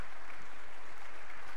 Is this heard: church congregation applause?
yes